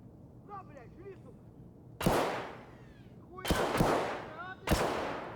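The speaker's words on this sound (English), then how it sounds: "Wish I knew where those shots were coming from." Gunfire in the Escape From Tarkov shooter game, a few sharp cracking shots at uneven intervals, fairly distant, with a soft crackling bed and faint chirping tones between them.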